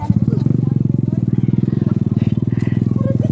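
A motorcycle engine putters nearby with a steady, rapid thumping idle, loud and close, while voices murmur faintly underneath.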